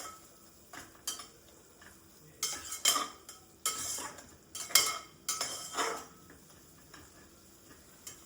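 Spoon stirring red chili powder into veg pulao in a pressure cooker, with intermittent scraping clinks against the metal pot, moderately loud and close, no talking.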